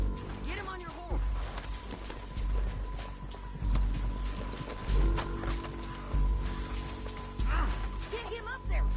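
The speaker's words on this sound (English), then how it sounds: "Get him on your horse." A horse in Red Dead Redemption 2 clip-clops in uneven hoofbeats at moderate distance, mixed with game clatter and background effects, while voices talk over parts of it.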